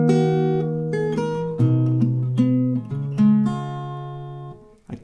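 A short acoustic guitar melody from a song, played as single picked notes with open strings ringing, clear and close for about five seconds with no talking.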